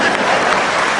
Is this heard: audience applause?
yes